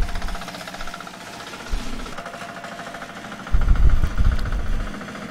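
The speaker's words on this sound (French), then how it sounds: "C'est un tracteur." A tractor engine runs close by with a rough, throbbing mid-pitched idle and knocking vibration, swelling louder toward the end, with no talk over it.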